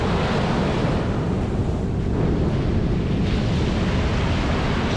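Ocean surf washing up and receding on a Florida beach, a steady loud broadband rush of water with wind buffeting the microphone throughout, no voices.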